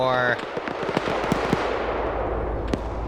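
A Panzer IV tank is destroyed in a WW2 tank battle game, heard as a sharp burst followed by scattered booms and crackling impacts over a rumbling battlefield bed, with a voice speaking briefly at the start.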